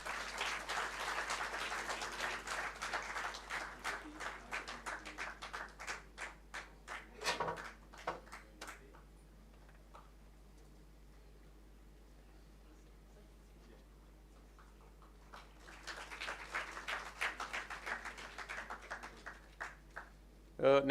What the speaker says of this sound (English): clap for your batchmates.